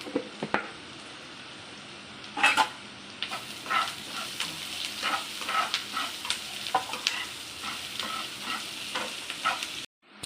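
Onions fry with a little salt in a pan for an onion chutney, giving a soft steady sizzle broken by repeated scraping stirs of a spoon against the pan.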